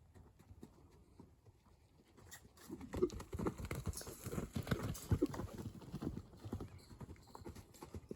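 Horse hooves canter in a steady clip-clop rhythm on ground during a training session, growing louder and closer after a quiet start, with the three-beat footfalls continuing to the end.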